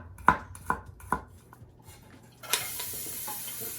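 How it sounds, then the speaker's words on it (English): Three sharp knocks of a utensil against a pan, then minced garlic hits hot olive oil and bursts into a steady, close sizzle that continues to the end. "I'm going to saute the garlic"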